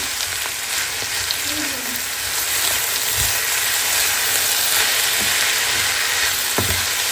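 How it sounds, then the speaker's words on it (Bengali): Potatoes frying with turmeric and salt give off a loud, dense, steady sizzle close up, with only a few faint stirring knocks breaking through the hiss. "এখন শুধু এটাকে একটু নাড়া দিব আর জালে হতে থাকবে"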